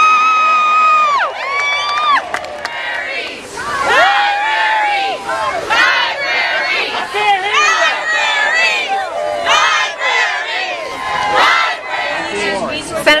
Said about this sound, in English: Go ahead, you can cheer for yourself.